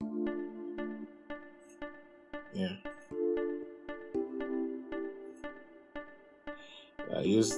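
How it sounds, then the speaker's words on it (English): A slapback marimba preset from the Citrus plugin plays in an Afro-piano beat: a steady run of plucked, bell-like notes, each with a quick echo, over sustained low tones. A voice briefly breaks in twice. "the slapback marimba,"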